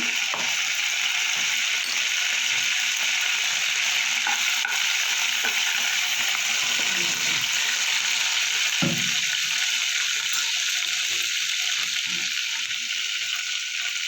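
Whole cumin seeds crackle and sizzle steadily in hot oil in a pan for a Bengali prawn curry, a dense continuous frying hiss with faint occasional stirring scrapes, close and unbroken throughout, no voices.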